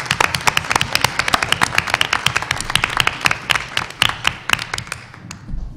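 Board of Education meeting audience clapping for a retiring board member, a lively burst of many hands with sharp, uneven claps that start strong and taper off over about six seconds.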